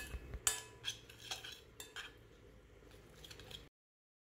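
A spoon clinks and scrapes in a bowl while tomato paste, lemon juice, salt, cumin, turmeric and red pepper are mixed into a marinade for dorado fish, faint and close, then silence.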